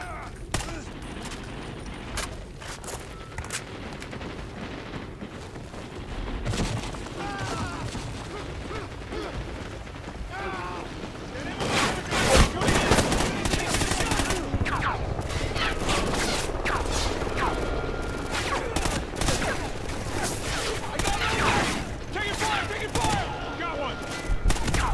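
Sustained Call of Duty: Ghosts gunfire, dense overlapping bursts and mechanical clatter that intensify midway, with voices shouting over the shooting.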